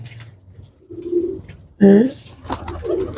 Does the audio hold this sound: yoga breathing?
no